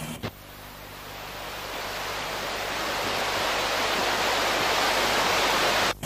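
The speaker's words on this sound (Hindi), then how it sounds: "समंदर की लहरें होंगी।" Sea waves wash onto a beach at Madh Island, a continuous rushing surf that swells gradually louder over several seconds, with no voices.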